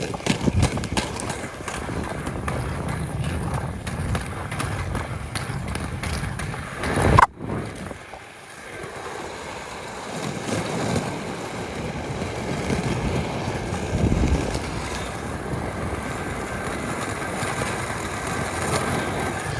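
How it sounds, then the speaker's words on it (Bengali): Wet skate wheels roll slowly over a road at dawn, a continuous gritty rumble and hiss with one sharp knock partway through. "এরকমই আওয়াজ হয় যখন স্কেটিং চলে"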